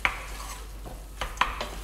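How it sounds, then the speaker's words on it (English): Chicken tikka masala mixture frying gently in a pot on the hob, a soft steady sizzle broken by a few clinks of a spoon stirring against the pot. "you just leave it very gently frying"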